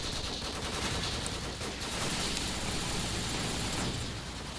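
Sustained AK rifle gunfire in the video game Call of Duty 4, a dense continuous wash of rapid shots and crackle without pause, loud and close, with no talking over it.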